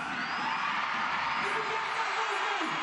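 A home crowd cheers and whoops at a Basketball Africa League game between the Cape Town Tigers and FUS Rabat in Pretoria, a steady, dense roar of voices filling the arena without a break.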